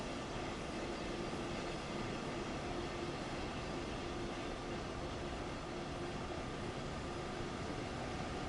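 A train in Train Sim World pulls away at full throttle, giving a steady, dense rumble of motor and wheels with a faint constant whine, unbroken and fairly loud throughout, with no one talking.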